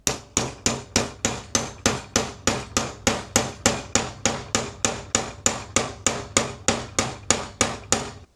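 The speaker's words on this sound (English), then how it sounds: "I'm just going to hammer it down a few times pretty hard to secure it." A hammer strikes a board repeatedly to secure a handmade journal's binding, about two dozen sharp, evenly spaced blows close by, each ringing briefly before the next.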